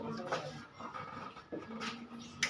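A dog makes panting, whimpering noises close by, with people talking over it in the background.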